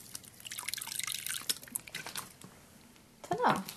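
A spray bottle mists salt water over the substrate of a hermit crab tank: several close, short hissing spritzes with light dripping and wet patter, ending in one louder burst.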